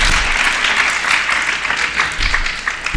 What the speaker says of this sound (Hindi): पुनः एक बार जोरदार तालियों के साथ सभी वक्ताओं का अभिनंदन करें